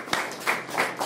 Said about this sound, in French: Je pense qu'on peut applaudir à l'initiateur.